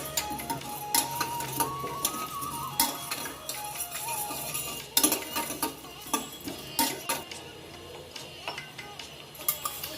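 Black pepper, chana dal and other spices dry-roast in a pan with no oil, heard as irregular small dry ticks and rattles as the grains are stirred and tossed, close and fairly quiet with no speech.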